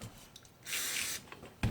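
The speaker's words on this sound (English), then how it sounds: "I'll just put a bit of spray on them." An aerosol spray can hisses onto the parts of a Honda ATC starter motor on a workbench, one short burst of close, loud hissing amid light handling noise.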